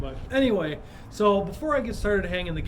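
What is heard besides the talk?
None of the usual background noises is heard.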